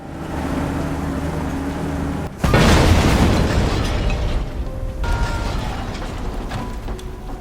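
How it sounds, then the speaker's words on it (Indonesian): A sudden loud blast erupts as a bus hits a landmine after a low rumbling engine hum, followed by a sustained roaring, crackling aftermath that slowly fades. "bus itu meledak setelah menginjak ranjau yang sudah disiapkan"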